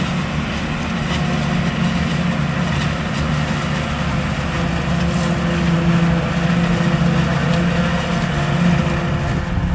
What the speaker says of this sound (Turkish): bizim buranın vazgeçilmez traktörü